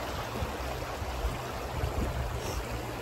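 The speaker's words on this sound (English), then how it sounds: "we're having lunch next to this beautiful little river" A small river flows steadily nearby, a continuous broadband rush of water with low rumble, no voices, beside a lunch spot on the way up Australia's tallest mountain.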